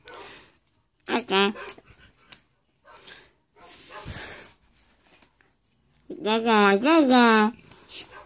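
A dog pants, snuffles and licks close by in short bursts, with breathy hissing gaps between; a person speaks briefly in between.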